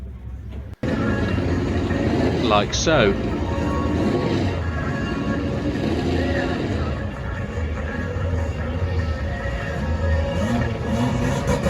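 Drag-racing burnout cars at a motorsports park street car shootout rumble and rev loudly and close, the engine noise swelling and dropping, with a brief spoken aside and background sound layered in.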